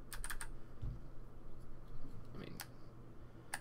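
Keys on a small Duckypad macro keypad are pressed in a few quick, crisp clicks, close and fairly quiet, with gaps between taps and a soft low thump near the start.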